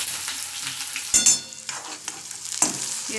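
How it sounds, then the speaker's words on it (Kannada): Onions sizzle in hot oil in a pan with cumin, mustard seeds and white sesame while being stirred, a steady frying hiss broken by a few scraping stirs, close and moderately loud. "ಈರುಳ್ಳಿ ಬ್ರೌನ್ ಕಲರ್ ಬರೋವರೆಗೂ ಹುರ್ಕೊಳ್ಳಿ."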